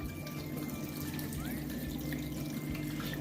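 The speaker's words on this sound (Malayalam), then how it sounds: "ഇപ്പൊ നിങ്ങൾക്ക് കേൾക്കാം അരുവിയിൽ നിന്ന് വെള്ളം ഒഴുകുന്ന പോലെ ഒരു സൗണ്ട്." An indoor tabletop water fountain trickles and babbles steadily like a small stream, a continuous soft flow with faint drips under a low room hum.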